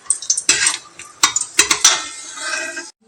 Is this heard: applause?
no